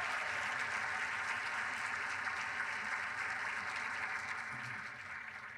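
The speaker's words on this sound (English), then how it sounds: "these guys, give them a round of applause" Steady applause from an audience honoring middle school all-county band students, a sustained wash of clapping held at an even level before easing off slightly near the end.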